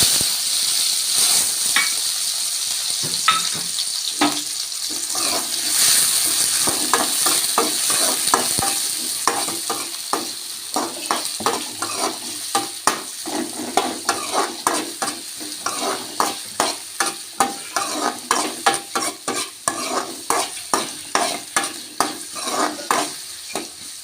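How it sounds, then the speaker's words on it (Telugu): Onions frying in a pan for a home curry with a steady sizzle, while a utensil stirs and scrapes repeatedly, with rhythmic clinks growing more frequent toward the end. "ఆనియన్స్ అయితే వేసేసుకుంటున్నాను"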